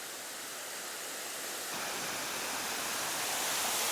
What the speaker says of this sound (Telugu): వాటర్ ఫాల్స్ అనేది బాగుంది